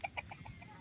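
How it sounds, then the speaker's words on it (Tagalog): Fighting roosters kept on a farm lot give a few quick, soft clucks in a short run, faint and at some distance. "Itong mga manok panabong."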